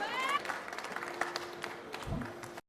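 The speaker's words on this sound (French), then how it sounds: "Allez, un tonnerre d'applaudissements pour Carlos José" An audience at a coffee and spirits championship applauds competitor Carlos José, a steady patter of clapping mixed with murmuring voices, ending abruptly.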